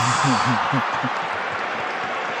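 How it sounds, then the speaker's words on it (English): An NBA preseason basketball arena crowd cheering and applauding for the Pelicans against the Jazz, a broad steady roar under a radio announcer's voice. "Crowd loves Donovan's effort, and they should."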